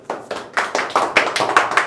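A small audience claps together in a classroom-style session on lightning protection, short bursts of hand claps rising and falling in uneven waves over two seconds, moderately close, with no talking.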